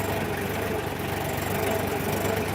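A tractor engine runs steadily at close range, a continuous low idling rumble with a faint knocking pulse that holds level throughout, with no voices over it.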